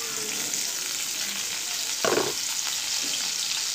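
A large thinly sliced onion hits hot oil for an okra tamarind curry. An even, close crackling sizzle runs throughout, with a brief louder burst midway as the pieces drop in.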